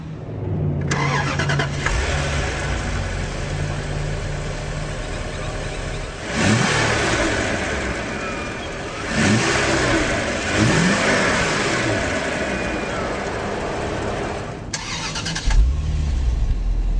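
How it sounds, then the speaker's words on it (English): A 2013 Bentley Mulsanne Mulliner's twin-turbo V8 starts with a sharp bark, then idles loudly, with two rising revs midway and a final burst near the end. "Beautiful melodic note from that twin-turbo V8."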